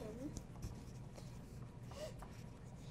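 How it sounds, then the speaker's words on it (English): Pencil writing on paper during a spelling lesson, soft scratchy strokes in short bursts, faint and close, with quiet voices faintly in the background. "So we'll write that on our paper"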